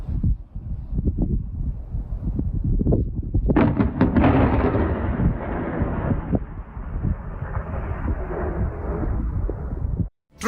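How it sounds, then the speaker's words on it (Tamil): Thunder from a lightning strike over Barcelona during heavy rain: low rolling rumbles build into a loud, broad crash near the middle, then a long sustained roar that cuts off abruptly near the end. "மின்னல் தாக்கி இருக்கு."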